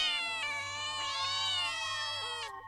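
Cats meow in a long, drawn-out wailing chorus, loud and sustained, with overlapping tonal cries rising and falling.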